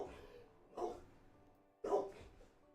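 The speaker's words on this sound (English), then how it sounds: "Dog barking alert." A dog barks in two separate short bursts, fairly close and sharp, with quiet pauses between them and no speech.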